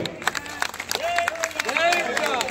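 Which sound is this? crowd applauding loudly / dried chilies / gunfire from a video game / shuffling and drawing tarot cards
crowd applauding loudly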